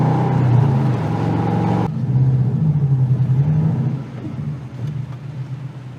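Car engine idling and rumbling at low speed from inside the cabin as the vehicle pulls up to a house on a residential street, a steady low drone that shifts after a short break and then eases off.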